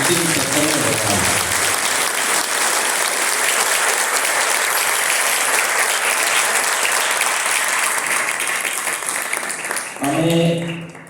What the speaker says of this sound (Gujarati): આપણે જોરદાર તાળીઓથી આ અંતિમ સત્સંગને વધાવીએ